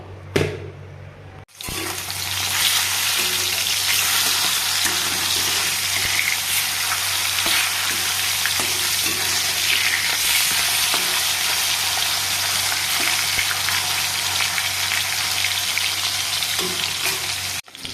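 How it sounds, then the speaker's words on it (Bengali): Fish frying in hot oil in a home kitchen, a loud, steady, dense sizzle that runs unbroken for nearly the whole stretch after a brief quiet start. "মাছ ভাজা হয়ে গেছে, উঠিয়ে নেব।"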